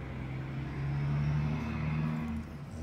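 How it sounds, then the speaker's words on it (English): Daytime street traffic on Main Street outside a store forms a muffled, steady low rumble, swelling briefly as a car seems to pass, heard indoors at a moderate distance with no talk. "You can hear all that traffic out on Main Street in front of our store."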